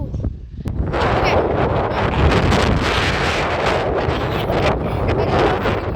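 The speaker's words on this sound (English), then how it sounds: "I don't know if you can hear all of that wind. It's insanely windy right now." Strong gusting wind buffets the microphone on a very windy day outdoors, a loud continuous rumbling roar with low thumps that fills the whole clip, with faint voices underneath.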